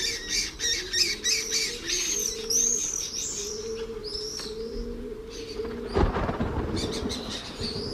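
Lesser kestrels and swifts calling from a rooftop, a busy mix of shrill chirring squawks and screeching cries repeating near and loud, with a short thump midway.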